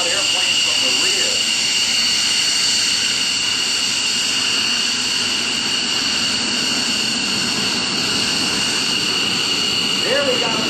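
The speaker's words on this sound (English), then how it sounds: "This is one loud airplane from the front. It's also one loud airplane from the rear." A loud jet airplane roars past at the 2008 AirPower Over Hampton Roads air show, a sustained, heavy whining engine blast with broad rumble that fills the whole stretch, near and overpowering.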